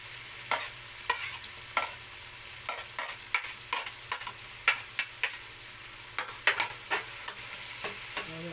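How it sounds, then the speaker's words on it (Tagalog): Onion and garlic sauté in a pan for a Bicol-style bagoong dish, a soft continuous sizzle broken by regular scraping strokes of a spatula, close and fairly quiet, with no talking. "Ang ating sibuyas at bawang. Gisa muna natin siya hanggang sa maluto."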